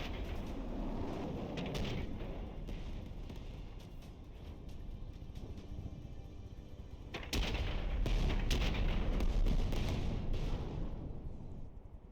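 Missiles pounding a slow-moving target in the naval combat game From The Depths: a continuous roar of rumbling impacts and crackling blasts, growing heavier and louder partway through, with no voices.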